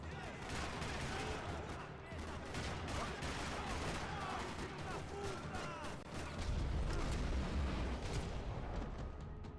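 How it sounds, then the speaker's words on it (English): Gunfire in a parking lot in the video game Max Payne 3: a continuous rattle of rapid shots and bursts with heavier booms, loud and dense throughout, with a deeper rumble swelling near the end and voices faintly mixed in. "Another parking lot rattling with gunfire."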